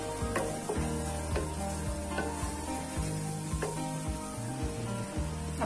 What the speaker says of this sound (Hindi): आप इसे मिलाकर थोड़ा सा 1 मिनट तक और भून लीजिए।